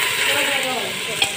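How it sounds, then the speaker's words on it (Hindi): Chicken pieces fry and get stirred in a handi for a korma, a steady loud sizzle with scraping strokes throughout and one sharp clink near the end. "चिकन हमारी जो है हल्की फ्राई हो चुकी है।"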